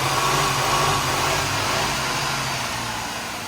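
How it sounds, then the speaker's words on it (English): A car engine is revved hard toward its rev limiter during an automotive lab test of MAF and MAP sensors, a loud, steady, close roar that eases slightly toward the end. "we're going to rev it up and see how this correlates"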